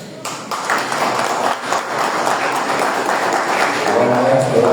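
Applause from an audience at a municipal workshop, a sustained burst of clapping that carries on throughout.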